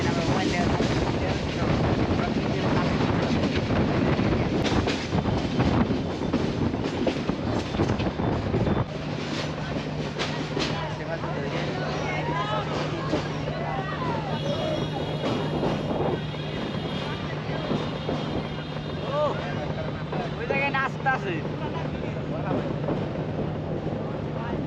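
Loud, steady rumble of a Bangladeshi train running at speed toward Mymensingh, heard from its roof with heavy wind rush over the microphone and a droning tone partway through, while a voice talks over it.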